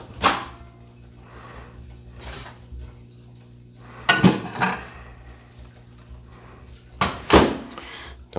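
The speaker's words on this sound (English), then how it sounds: "we're just going to put that in the microwave for, I don't know, probably about 10-15 seconds here" A donut goes into a microwave: a door latch clicks open, soft clatter of a plate, then two sharper knocks as the door shuts, close and fairly quiet in a kitchen.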